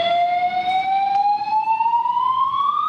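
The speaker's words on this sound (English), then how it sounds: "The alarm is now going off here in the parking structures at Terminal 4." A fire alarm sounds in an airport parking structure at Phoenix Terminal 4 during a dust storm, a loud, continuous electronic tone that rises slowly in pitch, with nothing else heard.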